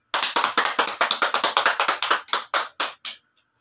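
A classroom of students claps loudly in a quick, steady run of about twenty sharp claps that slows and fades at the end, with no talking.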